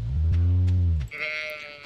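Sheep in Stardew Valley: a single loud, close bleat lasting about a second, followed by a thinner higher-pitched cry trailing off.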